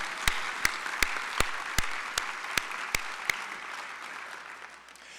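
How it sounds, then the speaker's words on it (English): An audience at a business session applauds, with a soft bed of crowd clapping and a string of sharp, evenly spaced louder claps standing out. The applause gradually tapers off toward the end. "let's give one final round of applause for all of those amazing recruiters"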